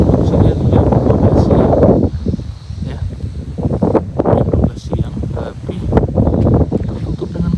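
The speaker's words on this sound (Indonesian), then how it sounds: "Kabut anginnya juga kencang ini" Strong wind sweeps across a fog-covered hillside campus at IPDN in Tampusu, Minahasa, North Sulawesi, roaring and buffeting the microphone, heaviest at the start, then gusting in irregular bursts.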